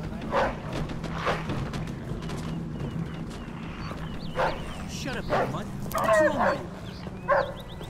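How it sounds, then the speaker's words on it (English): A dog in the video game Mafia 2 barks repeatedly in sharp yips and whimpers, at moderate distance, over a steady low game ambience with voices talking alongside. "Shit, that dog could be a problem."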